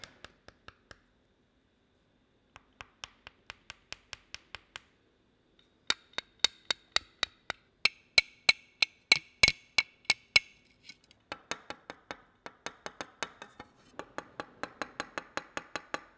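Forged chopped carbon fiber sample plates tapped one after another, a run of sharp, hard clicks and knocks in steady, close bursts that shift from duller to brighter, ringing tones with the changing density of the samples, no talk.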